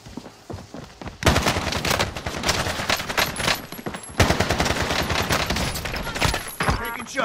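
Video game gunfire in a team match: rapid automatic bursts, loud and sustained over several seconds after a quieter start, with short pauses between volleys.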